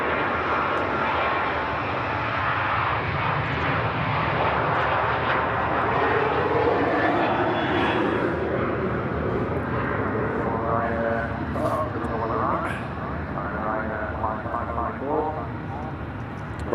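A Ryanair airliner touches down at Rotterdam, its engine roar loud and sustained under continuous talk from nearby voices, slowly shifting in pitch as the jet rolls out.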